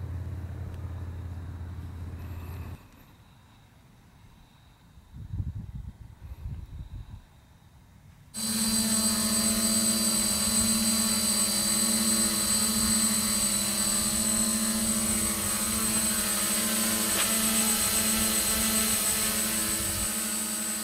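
An ArduCopter 3.2 multicopter drone, a home-built unit, spins up after a quiet start and flies with a steady, loud, high-pitched motor and propeller whine that holds on without a break.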